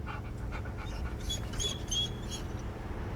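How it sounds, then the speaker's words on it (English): A dog whimpers and pants in the video game Hell Is Us, an abandoned pup found alone in a house; soft, breathy whines repeat close by over a low steady background hum. "I found the poor pup whimpering alone in a house, just abandoned there by the owners."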